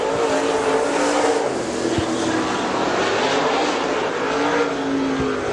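A Super Late Model race car roars down the back straightaway at Dixie Speedway, a sustained droning engine howl with shifting pitch that stays loud and steady throughout.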